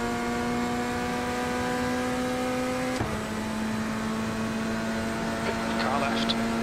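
A race car engine in a sim racing game drones steadily with a sustained tonal whine, dropping pitch briefly midway as another faster car draws near, with a spotter voice talking over it.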